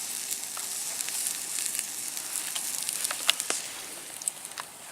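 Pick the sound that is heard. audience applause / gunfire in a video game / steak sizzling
steak sizzling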